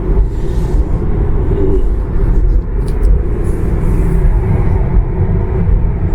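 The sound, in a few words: Tesla Model 3 driving on highway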